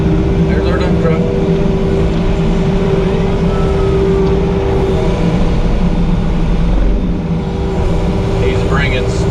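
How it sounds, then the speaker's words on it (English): A dump truck rolls in with a load of stone for a gravel driveway, its engine a continuous loud rumble with a steady drone, while someone talks over it close by. "There's our dump truck."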